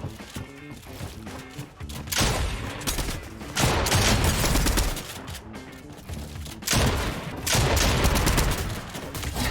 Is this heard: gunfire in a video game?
yes